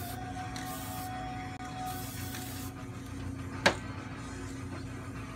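A Rust-Oleum black lacquer spray can fitted with its stock nozzle tip, aimed at a guitar, hisses in a couple of steady bursts against a quiet room hum, followed by a brief sharp click.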